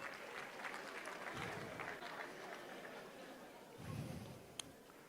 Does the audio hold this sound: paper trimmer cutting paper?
no